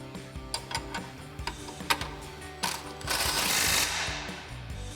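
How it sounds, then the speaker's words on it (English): An impact wrench with a 21mm socket tightening a nut during a Jeep Wrangler JK suspension lift install, a few sharp clicks and ratcheting sounds followed by a sustained buzzing burst of hammering, close-up in a garage. "tighten that down using our 21mm socket on our impact and a 21mm wrench"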